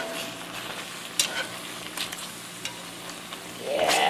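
Ginger beef being stirred and mixed with cornstarch, sugar and sauce, producing soft wet scraping and clicking stirs with occasional brighter utensil knocks, close and fairly quiet.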